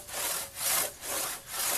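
Close, steady strokes of a dull one-man crosscut saw biting into a wooden branch, about four rasping pushes and pulls in quick regular rhythm with no voices.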